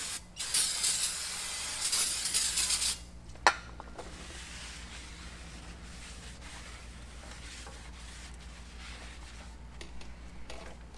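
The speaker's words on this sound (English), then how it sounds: "I've cleaned the back side with brake cleaner." Aerosol brake cleaner sprayed onto the front brake rotor of a 2018 Toyota Tacoma, a loud close hiss lasting about three seconds, then a sharp clank and quiet garage ambience.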